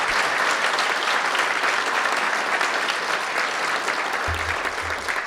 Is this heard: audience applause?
yes